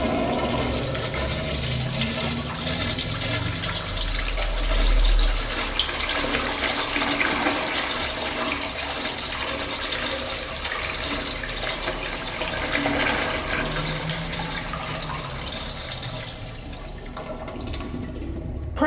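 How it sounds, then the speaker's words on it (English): An early 1900s Crane Sanwall toilet flushes with a straight-down flush, a loud, close, continuous rush of water that runs for the whole stretch and thins slightly toward the end. "Pretty standard straight down flush, but on a longer flush and better pressure, this thing can have a pretty good flush."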